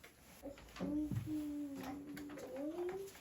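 A young child imitates the squeaky sound of a subway train, voicing a faint, drawn-out squeal that slides and wavers in pitch for a couple of seconds.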